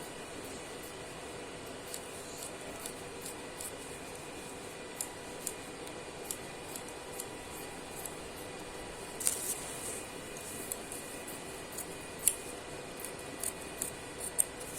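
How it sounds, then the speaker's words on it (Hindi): Scissors snip through blouse fabric while the shoulders are cut, a quiet run of soft, faint clicks and swishes spread across the stretch with no talking. "उसके बाद फिर हम कंधे काट लेंगे बीच में से इस तरीके से इसको"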